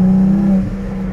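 A Porsche 718 GT4 with a titanium exhaust holds a loud, close, steady engine note, then the pitch dips partway through the brief burst.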